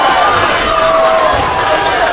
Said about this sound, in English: That sends the crowd into a frenzy.